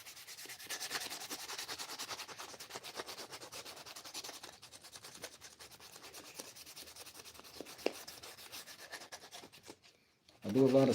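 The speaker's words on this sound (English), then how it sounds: "I do a lot of sanding by hand" Steady hand sanding on a wooden handle, a continuous scratchy rubbing that runs for about ten seconds at close range, then stops before a brief louder thump.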